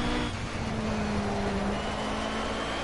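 A Corvette and a BMW GT3 race car drone on at Brno in a racing video game during a thunderstorm, a steady, moderately faint engine hum holding throughout.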